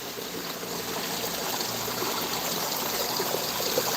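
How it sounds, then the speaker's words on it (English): Water swirls in a steady spiraling vortex inside a fish tank setup, a continuous close rushing and trickling flow that holds even for the whole stretch with no voices. "we're creating a really good vortex of water going on down here. Really got good sound, good flow, lots of spiraling going on"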